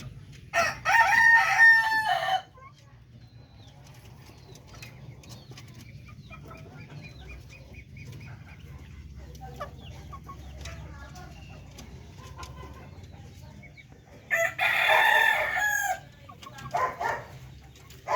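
Darag chickens crow loudly twice, once at the start and again near the end, each a long strident call with clucks around it, over a steady low outdoor hum.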